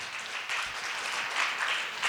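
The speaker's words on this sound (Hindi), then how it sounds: "एक बार ताली बजाएंगे, प्रभु को धन्यवाद दें।" A church congregation bursts into steady, dense clapping in thanks to the Lord, a full room of hands at moderate volume with no talk over it.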